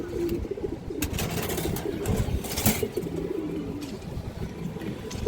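A female pigeon at a bird farm coos in soft, repeated low murmurs over a busy background of other birds, with occasional brief wing flutters.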